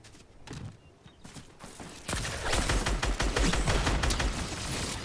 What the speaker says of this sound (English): guys with shot rifles shoot really fast